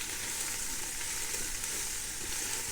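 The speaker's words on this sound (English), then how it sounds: "I'm tossing in the onions, garlic and mushrooms. Get them into the oil as well." Onions, garlic and mushrooms sizzle in hot oil in a pan for a beef short rib with pappardelle, a steady, close, dense frying hiss with no talking.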